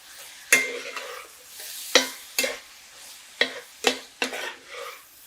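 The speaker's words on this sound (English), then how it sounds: "we're just going to mix it all together real good" A spoon scrapes and stirs stuffed pepper filling mixed with tomato sauce in a bowl, about eight distinct wet scraping strokes in an uneven rhythm, close and clear with nothing else heard.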